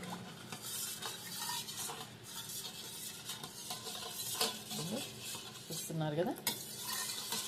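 A spoon stirs turmeric and chili powder through food in a pan, giving repeated metallic scrapes and clinks over a soft sizzle, with someone speaking briefly.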